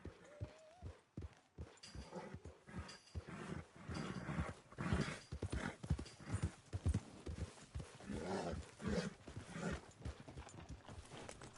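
Horse hooves clip-clop steadily in the open-world western game Red Dead Redemption 2, a fast, close, continuous rhythm of dull strikes that runs alongside rumbling ambient game sound for the whole stretch.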